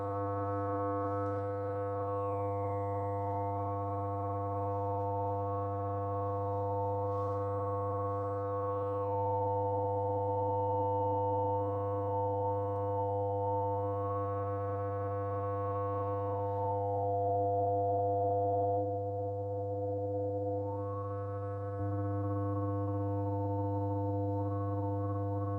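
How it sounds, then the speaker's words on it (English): A steady, droning low tone with a second, higher whistling overtone, made by a cupped hand forming a sound chamber, that slides and wavers over the top of it, sounding alone. "by using my hand and manipulating and creating a chamber, I can create a second tone over the top"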